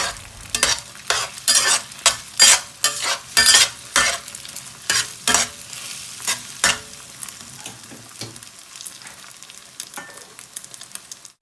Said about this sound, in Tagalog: push the eggs gently around with the spatula to scramble